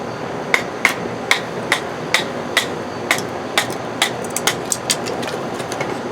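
A Damascus steel fixed-blade knife splits wood with sharp, regular knocks, about a dozen strikes spaced roughly half a second apart, loud over a constant background noise.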